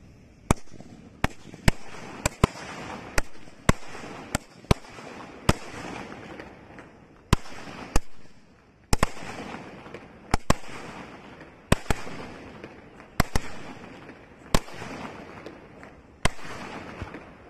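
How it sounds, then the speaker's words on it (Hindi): Golden sky 12-shot Diwali fireworks cake fires a steady series of sharp, loud bursts roughly every half second to second, each crack standing out clearly over a continuous crackling hiss, with no voices. "अब हमारे पास ये गोल्डन वाले स्काई है, चलिए अब इसको भी जला के देखते हैं।"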